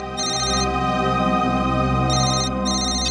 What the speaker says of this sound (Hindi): मोबाइल कंपनी से फोन था।